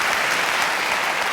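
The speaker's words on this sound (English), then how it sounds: "let's give Chris and everyone who helped to create the development package to keep this investment here in the county a big round of applause" A big round of applause from an audience at a county address held in a large concourse venue, heard as dense, steady clapping that fills the whole stretch evenly.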